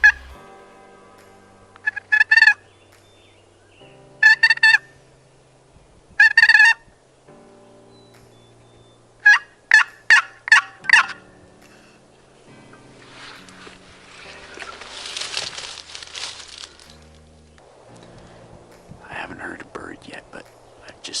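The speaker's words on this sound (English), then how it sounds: "I'm going to be using my box call." Turkey hen yelps scraped out on a wooden box call while out hunting wild turkeys: several loud, sharp bursts of clucks and yelps in separate groups, with someone speaking softly in between and afterward.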